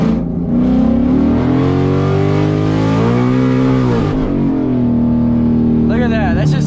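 A car on a 15 inch drag pack with traction control off, its engine revving hard and rising and falling in pitch as the tires spin, loud and close, with a brief squealing burst near the end.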